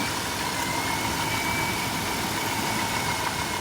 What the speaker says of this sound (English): That humming you're hearing is the air compressor.